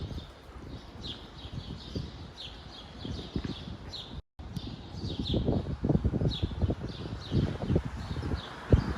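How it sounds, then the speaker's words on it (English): Birds chirp in bright, repeated bursts along a sunny Harlem street in New York City, heard steadily over low traffic rumble and footsteps, with a brief dropout midway. "If you stop a second, I hear the birds."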